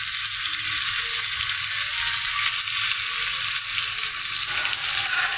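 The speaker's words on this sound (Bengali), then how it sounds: "মাছগুলো দিয়ে দিলাম, ভালো করে কষিয়ে নেব।" Prawns sizzle steadily as they sauté in a pan, a dense, even, close frying hiss that stays loud and unbroken throughout with faint scraping of stirring underneath.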